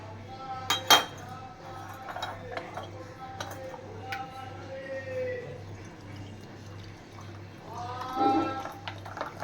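Dishes and cutlery clink and clatter in scattered bursts while being put away, with a few sharper knocks early on and a low steady hum underneath.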